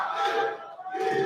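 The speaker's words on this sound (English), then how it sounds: "Listen to the Georgian contingent in the crowd here" A crowd of Georgian fans cheers and chants at an arm-wrestling event, a loud collective roar in two swells with a short dip between.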